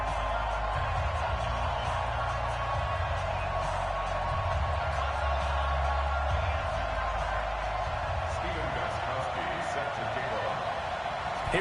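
A stadium crowd roars at an NFL game between the Detroit Lions and the Indianapolis Colts in an EA Sports video game, a steady, unbroken wash of noise with no distinct peaks.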